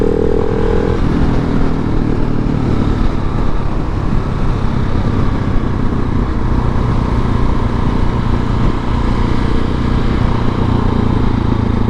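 A 2019 KTM 690 SMCR single-cylinder motorcycle drones loudly and steadily while riding, its engine note shifting between gears, with heavy wind rumble throughout.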